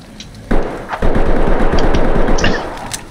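Rapid automatic gunfire in a video game bursts in after a short quiet lead-in, a dense rattling stream of close, loud shots running nearly continuously for a couple of seconds.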